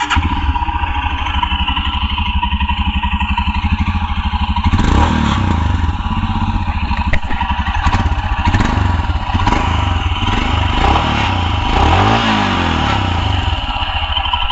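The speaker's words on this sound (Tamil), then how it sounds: "வண்டியோட சவுண்ட் எப்படி இருக்குது அப்படிங்கிறத நான் உங்களுக்கு காட்டுறேன்." A 2022 Royal Enfield Himalayan BS6 motorcycle idles with a steady, loud thumping single-cylinder exhaust beat, then blips the throttle in several short revs partway through, close to the microphone and with no talking.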